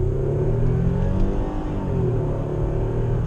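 A 2006 Toyota Avalon with its 2GR-FE V6 accelerates hard, giving a loud, steady engine drone with a rising pitch that stays continuous and close throughout.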